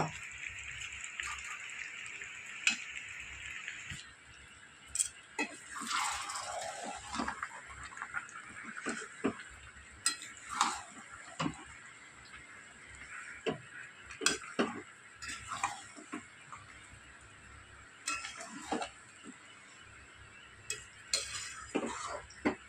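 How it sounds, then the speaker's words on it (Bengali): Fried potatoes and capsicum added to chicken cooking in a pan: scattered clinks and scrapes of a utensil against the pan over a soft, steady sizzle, fairly quiet and close. "এবার দিয়ে দেবো ভেজে রাখা আলু আর ক্যাপসিকাম।"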